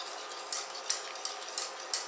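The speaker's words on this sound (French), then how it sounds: "Alors on commence à mettre le beurre, 2-3 morceaux, et on y va pour mélanger" A whisk beating pieces of butter into a warm beurre blanc emulsion, giving soft, quick, regular metallic taps and swishes against the pan, close and steady.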